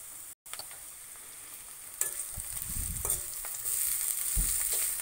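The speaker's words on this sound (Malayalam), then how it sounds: "അപ്പോൾ നമുക്കിതൊന്ന് ഇളക്കി കൊടുക്കാം." Kovai (ivy gourd) leaves wilt in a hot pan as they are stirred, giving a soft, fairly quiet sizzle with a few brief scraping stirs, no talking.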